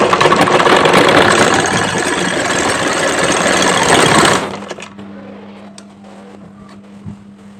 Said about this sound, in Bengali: একইভাবে পুরোটা সেলাই করব